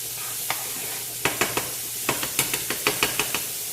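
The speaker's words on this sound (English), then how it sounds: "we're going to add 1 tablespoon of butter to our frying pan" A steady sizzle of butter melting in a preheated frying pan, with a series of sharp scraping taps as something is stirred in quick, uneven strokes.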